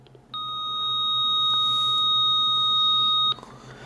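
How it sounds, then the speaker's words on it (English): A single steady electronic beep tone from a RadioShack 12-261 radio's signal loss reminder sounds continuously for about three seconds, then cuts off sharply, with quiet background before and after. "this is to demonstrate the signal loss reminder"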